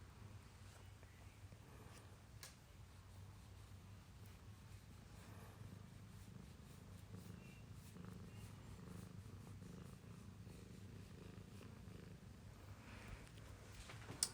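An indoor cat purrs softly and continuously in a quiet room, a low rhythmic rumble that stays faint throughout.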